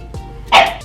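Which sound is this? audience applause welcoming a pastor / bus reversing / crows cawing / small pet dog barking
small pet dog barking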